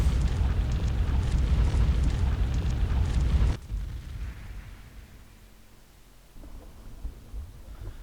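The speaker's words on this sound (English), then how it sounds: "We gotta pay attention to which fireball is going off." Fireball traps in the adventure game The Pandora Directive roar as a loud, rumbling burst that suddenly cuts off after about three and a half seconds, followed by a quieter low rumble and faint ambience.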